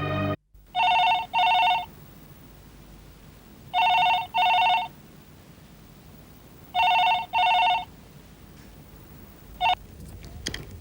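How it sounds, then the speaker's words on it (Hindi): A telephone rings in a home, sounding in three evenly spaced double bursts of electronic trilling, loud and clear, followed by a short partial ring before it is answered. "दया भाई साहब का फोन है"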